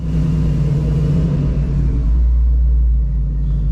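A Ford Mustang S197 fitted with a Paxton Novi 2200 supercharger runs with a loud, steady low engine rumble and a slight swell partway through, with no talking.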